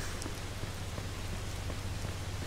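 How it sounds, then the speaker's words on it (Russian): Steady rain in the video game Mafia 2 pattering densely on a surface, a constant hiss of drops with no voices, under a low hum. "О, уже и дождь."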